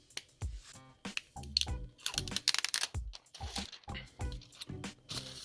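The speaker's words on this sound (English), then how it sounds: "we're going to peel the plastic off of the front" Plastic protective film being peeled off the front of an iPhone XR Unicorn Beetle Neo two-part case, heard as close, irregular crinkling crackles and soft rustling bursts throughout, with no talking.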